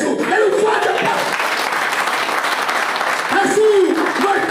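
Congregation in a church breaks into loud, sustained applause, a thick even roar of clapping heard close, with a preacher's raised voice speaking over it at the beginning and again near the end.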